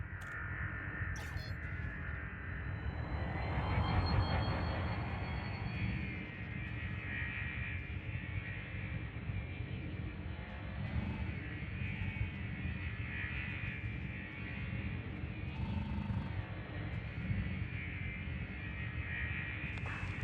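A spaceship in Elite Dangerous glides through checkpoints around an orbital structure, a steady low engine drone with a faint airy hiss holding level the whole time, with no voices.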